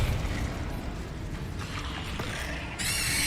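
A Confringo blasting spell is cast in Hogwarts Legacy. Low rumbling effects build under game noise, then a bright, harsh burst cuts in near the end and keeps ringing to the close.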